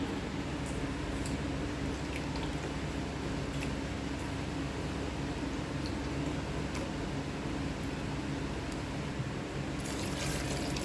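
Water poured into a pressure cooker holding mutton lungs with curry masala and turmeric, a steady low trickle and splash running throughout at moderate, even level with no talk.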